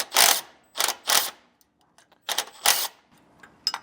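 Several short bursts of a ratchet wrench loosening a bracket nut on a 2020 Jayco Melbourne trailer, sharp clicking strokes in quick groups with brief pauses between, close and alone.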